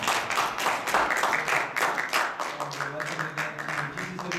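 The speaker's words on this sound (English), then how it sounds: "clap our hands for the Lord" A congregation claps along during a church praise and worship service, producing a dense, steady wash of handclaps over singing voices.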